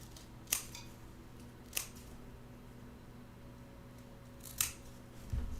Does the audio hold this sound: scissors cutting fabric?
yes